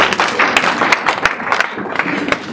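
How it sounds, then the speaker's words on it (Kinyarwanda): A church congregation applauds, a burst of close, sharp handclaps spread across a crowd, ragged and loud, with a few faint voices mixed in. "Dukomereye Yesu amashyi"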